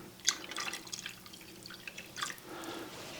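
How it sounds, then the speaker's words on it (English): Scattered drips and small splashes of water falling into a pot, fairly quiet and irregular, with no voices. "I'm going to go ahead and add 2 cups of water."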